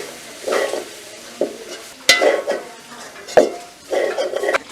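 Banana flower curry frying in a pan in a Jaffna village kitchen, stirred with a spoon: a soft steady sizzle under scraping and occasional clinks against the pan, close by.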